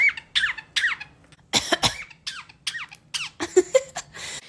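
A bird gives a series of short, rising squeaky chirps, interrupted twice by harsh, breathy bursts that sound like a parrot mimicking a cough.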